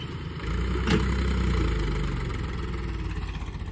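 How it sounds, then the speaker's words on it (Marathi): A tractor engine running during ploughing in a farm field, a steady low idling rumble that starts after a brief quiet moment and holds close and loud throughout. "ट्रॅक्टरांचा आवाज आला"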